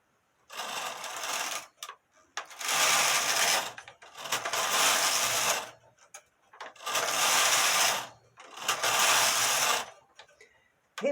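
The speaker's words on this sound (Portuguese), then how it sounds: "E vamos tecer." A jacquard loom weaving in rhythmic bursts, four long loud mechanical whirring passes separated by short pauses and clicks, close and clear with no talk.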